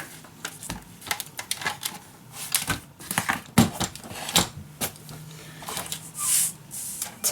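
Scissors cut paper for a craft mini album in a box, giving a run of crisp, irregular snips and rustles at close range with no talking.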